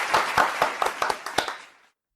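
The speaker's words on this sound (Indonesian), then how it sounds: "Beri tepuk tangan pada Mansur." A brief burst of clapping for Mansur in an Indonesian question-and-answer show: about eight sharp, evenly spaced claps that fade out in under two seconds, with no voices.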